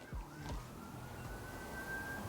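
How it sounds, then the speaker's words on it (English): Emergency vehicle sirens wail faintly in the distance outdoors, a drawn-out rising and falling tone with a second siren sweeping briefly underneath, no talking. "What is with the sirens?"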